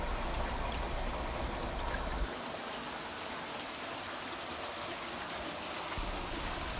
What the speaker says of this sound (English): The water trickles down through the trays, barely visible here in the back of the trays.